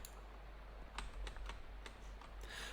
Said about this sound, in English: There's a half-finished document in the typewriter.